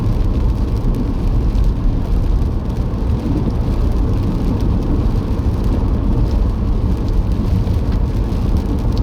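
Steady rain patters and hisses outside a car driving near Ancaster Crossroads, a constant close wash of noise with a low rumble underneath and no pauses or voices.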